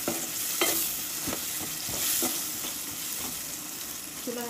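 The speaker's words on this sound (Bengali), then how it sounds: "তো এগুলোকে একটু নেড়ে চেড়ে কষিয়ে নেব।" Spices, tomato and chicken being sautéed in a pan, with a steady loud sizzle and repeated scraping taps of a stirring utensil throughout, with no talking.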